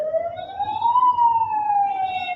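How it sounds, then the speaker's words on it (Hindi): An ambulance siren wails in a steady rising and falling tone, loud and clear as it passes, with traffic faintly underneath. "Okay, that's an ambulance. सुनाई दे रहा है आपको?"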